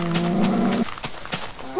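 A Minecraft cow lets out a moo, a steady droning low call lasting under a second, followed by faint game clicks and the start of another moo.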